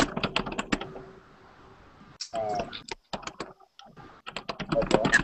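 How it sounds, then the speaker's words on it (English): Typing on a computer keyboard: bursts of quick, clicky keystrokes close by, with short pauses between runs and faint background hum. "Who's typing?"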